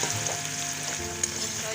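Chicken liver frying in a pan, giving a steady close sizzle and crackle that continues throughout without talking.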